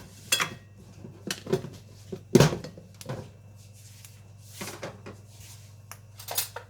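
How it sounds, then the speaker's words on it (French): A metal tablespoon is picked up from among kitchen utensils while making pain perdu, giving a scattered series of light clinks and clatters, with one louder knock midway, fairly quiet and close. "Je vais prendre une cuillère à soupe."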